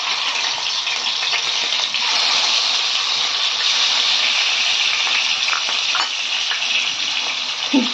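Aar fish frying in hot oil for a Bengali fish curry gives a loud, steady sizzle with dense crackle that holds without a break for the whole stretch, and no one speaks over it.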